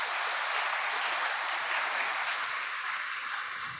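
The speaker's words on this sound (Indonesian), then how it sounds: "Boleh kita beri tepuk tangan untuk kita semua." A congregation at a youth Eucharist celebration in St. Yohanes Rasul Pringwulung parish church gives sustained applause, a smooth, continuous wash of clapping that fades slightly toward the end, with no clear speech.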